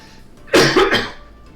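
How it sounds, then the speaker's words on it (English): A single short, harsh cough burst, close and fairly loud, with no talking around it. "Stop coughing"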